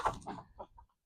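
A few chickens clucking inside a poultry shed, several short close clucks over about a second, fading out at the end.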